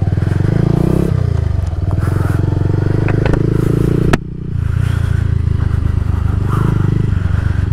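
A motorcycle fitted with an aftermarket exhaust, about 25,000 km old, rides along with a loud, close, throbbing engine note that dips briefly midway as the throttle eases and then picks back up.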